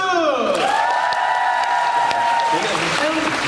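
Audience applause and cheering at a live public radio broadcast, a loud sustained crowd din with whoops, while a sung or drawn-out voice carries over the top.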